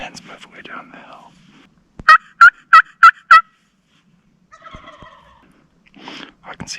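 A wild turkey gobbles during a spring hunt near Bend, Oregon: five loud, rapid gobble bursts close by, framed by soft whispering and quiet rustling before and after.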